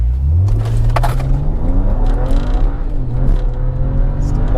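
A BMW 335i E92 with the N54 engine pulls flat out, its engine note rising loudly in pitch, dropping at a gear shift and climbing again, heard from inside the car.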